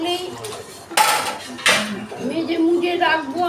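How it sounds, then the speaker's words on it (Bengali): Metal kadai woks and pots being scrubbed and clattered in a kitchen, with sharp clanks around the one- and two-second marks and ongoing scraping under a woman's speech. "রোজের কড়াই রান্না করে রোজ মাজতে হবে"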